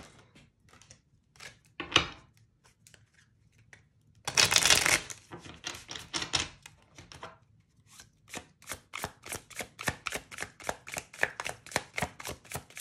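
Tarot cards shuffled at close range, with riffling bursts, a longer dense shuffle, then a fast, even run of crisp card flicks and slaps as cards are drawn, with no talking over it.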